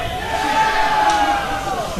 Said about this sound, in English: And the crowd just loves this Garen.